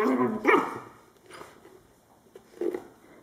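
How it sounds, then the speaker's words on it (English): Two Anatolian puppies barking while playing: a few sharp close barks and yips with soft growly whimpers between them, spaced irregularly across a quiet indoor background. "This is just a normal bedtime activity for two Anatolian puppies."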